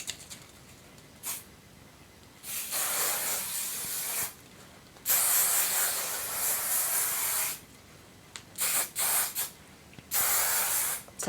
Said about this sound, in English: And to finish off, I use a hairspray.